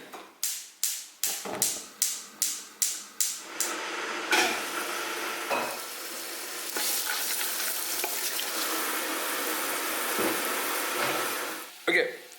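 Diced onions in a mirepoix are scraped and stirred in a hot pan, with a rapid series of spoon taps giving way to a steady loud sizzle that fades near the end.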